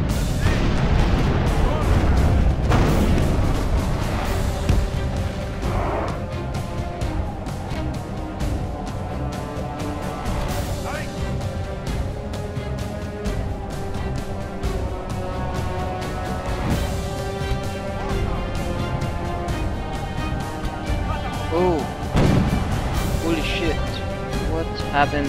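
Heavy booms of cannon fire land every few seconds amid a dense, noisy battle mix in the video game Medieval 2: Total War, with a voice talking over the gunfire.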